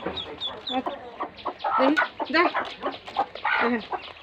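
A hen clucks repeatedly in a farmyard setting, with short irregular calls close by while a person talks over them throughout.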